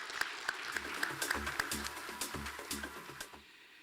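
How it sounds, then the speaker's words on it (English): Applause at the FEDAI 19th Annual Conference business session in Zurich, Switzerland: a crowd clapping with a dense patter of sharp claps that fades toward the end, with a voice speaking over it. "A big round of applause."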